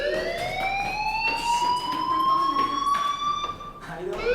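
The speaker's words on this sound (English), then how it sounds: "Hey, do you hear that fire alarm?" A fire alarm wails in the video game Life is Strange, a steady, rising electronic tone heard continuously at moderate loudness while voices talk over it.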